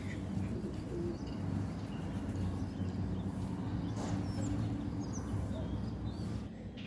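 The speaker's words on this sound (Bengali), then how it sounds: "কত পায়রা চলে আসে আর আমি আয় আয় করে ডাকলে চলে আসে" Pigeons coo softly and repeatedly over a low, steady background hum, with a few brief bird chirps scattered throughout.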